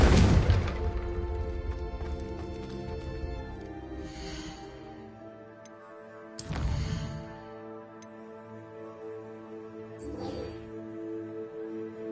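Magical spell explosions from Bombarda and Confringo in Hogwarts Legacy: a big booming blast at the start followed by two more sharp bursts a few seconds apart, each ringing out over a sustained musical drone.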